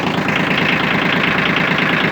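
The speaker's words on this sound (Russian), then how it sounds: "вот так легко заводится, работает ровно, можно сказать, идеально" A Yanmar F155 mini tractor engine idles smoothly and loudly up close, its steady rapid chugging pulses unbroken and even throughout, with no voices.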